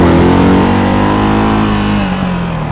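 A Ducati Hypermotard 698 RVE single-cylinder motorcycle engine pulls hard under acceleration, a loud, close, steady roar with strong harmonic tones that sag slightly in pitch toward the end.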